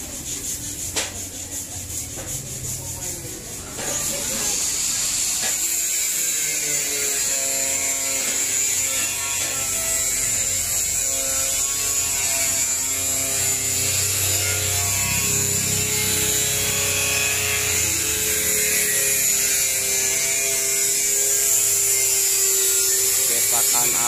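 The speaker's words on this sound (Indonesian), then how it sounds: "Ini mixernya untuk ngaduk semennya." A cement mixer's electric motor drones steadily and loudly while mixing cement for precast concrete fence panels, a continuous mechanical whir with people talking over it.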